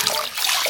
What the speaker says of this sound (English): This is just only water and foam we are using to wash